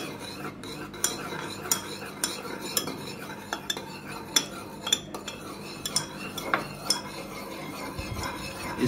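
A commercial beauty lotion formula is stirred in a metal vessel, with repeated close clinks and scrapes of a utensil against the container at a steady rhythm over a soft continuous swishing.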